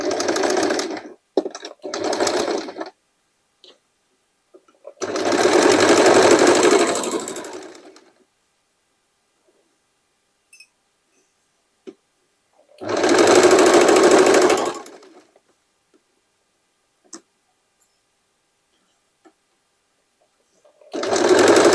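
Sewing machine running decorative stitching on denim while turning old jeans into a boho duster jacket, heard in three sustained loud bursts of whirring stitching separated by quiet pauses with small handling clicks.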